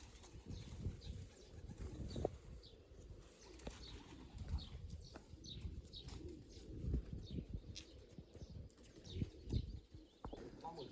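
Pigeons coo softly outdoors, with occasional wing flaps and light shuffling nearby.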